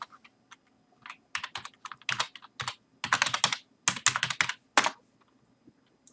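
Typing on a computer keyboard to enter an email address, heard up close as irregular bursts of quick clicking keystrokes with short pauses between them, alone in a quiet room.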